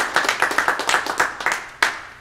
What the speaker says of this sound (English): So give her a round of applause this morning.